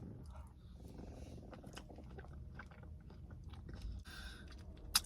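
Someone eats a Dairy Queen Blizzard ice cream up close. Soft wet chewing and small crunches from mix-ins run steadily, with a faint murmur under them and a brief sharp click at the end.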